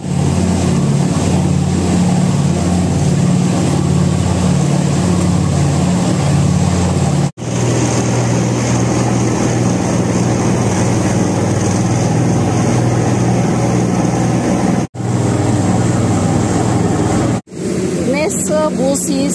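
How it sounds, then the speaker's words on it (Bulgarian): Cruise ship lifeboats ferrying passengers to shore on the Caribbean coast at La Romana, Dominican Republic; a loud, steady motor drone with water wash and wind runs throughout, broken by brief cuts, with a voice over it. "Ето ги спасителните лодки на кораба, които действат като транспорт до брега."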